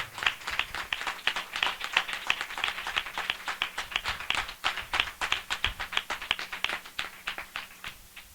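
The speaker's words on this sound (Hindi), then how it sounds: "हम जोरदार ताली से उनका स्वागत करें" Loud, dense applause from a large crowd at a Christian spiritual revival assembly welcoming listeners, with steady rapid clapping that continues for the whole stretch and barely tapers at the end.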